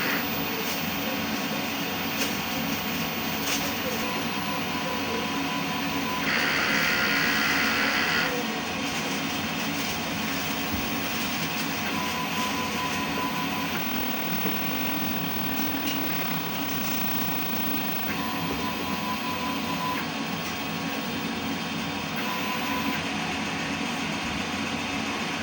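An inkjet printer runs a print head cleaning cycle, giving a steady mechanical whir and hum with a brief brighter burst partway through and no talking.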